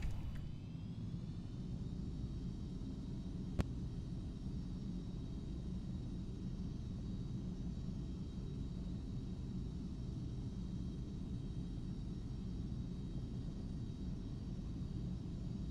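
A Carenado 390 Premier 1A business jet taxis in X-Plane 11, its engines holding a low, steady rumbling hum with a faint high whine on top and a single sharp click early on.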